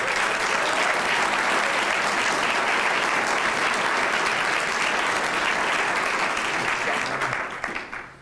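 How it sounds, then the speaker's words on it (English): A large audience at an honorary commanders induction ceremony applauds steadily and loudly, the clapping sustained for several seconds before tapering off at the end. "So please, a round of applause for Judge Steve Floyd."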